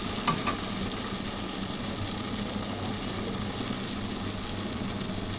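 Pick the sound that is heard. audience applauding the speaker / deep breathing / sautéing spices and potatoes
sautéing spices and potatoes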